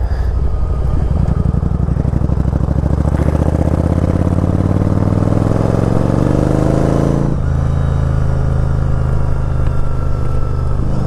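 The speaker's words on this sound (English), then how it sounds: "So this bike cruises even the Harley guys wave to you." Yamaha Virago motorcycle engine cruising on the road, a loud steady drone that rises in pitch as it accelerates, drops sharply around the seven-second mark, then holds a lower even rumble.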